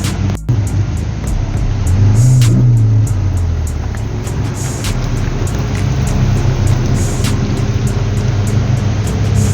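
A Lamborghini Aventador Roadster at a rainy London supercar meet, its engine idling with a steady low rumble and a brief swell near the start, heard close amid street noise.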